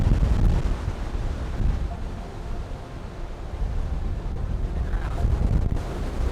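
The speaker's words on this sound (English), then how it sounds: "Pretty breezy up here." Strong wind gusts across an open mountain top, a loud rumbling roar buffeting the microphone throughout with no pauses.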